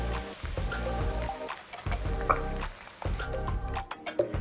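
Onions fry in spiced oil for Lahori chana, cooking until light brown, with a soft, continuous sizzle and crackle marked by irregular stirring clatters and no speech.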